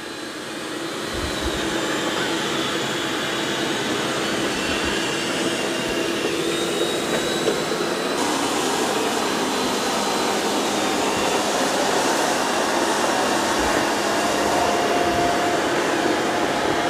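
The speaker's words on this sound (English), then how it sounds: "Now the eufy's doing a good job on this carpet. It's got the mop pads raised and it's increased suction." A eufy X10 Pro robot vacuum cleans carpet with its mop pads raised and suction increased, making a loud, steady whooshing roar that builds in the first second and holds evenly throughout.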